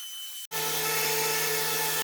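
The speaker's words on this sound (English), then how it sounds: "I'm going to use the leaf blower and blow off all the sitting water." After a brief lower hum, a loud leaf blower roars on abruptly and holds a steady, whining drone up close, blowing sitting water off a wooden deck.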